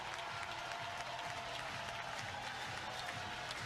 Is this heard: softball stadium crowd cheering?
yes